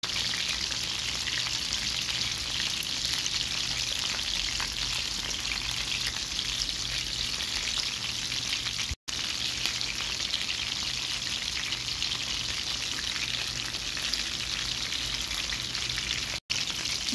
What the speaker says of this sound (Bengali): এইগুলো দ্বিতীয়বার ভেজে নেব।